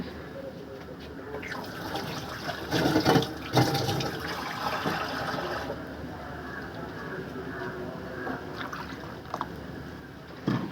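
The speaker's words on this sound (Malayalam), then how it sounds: "കുറച്ചും കൂടി വെള്ളം ഒഴിച്ചു കൊടുക്കാം" Water splashing and pouring steadily into a curd curry for several seconds, with a louder gush near the middle, close by.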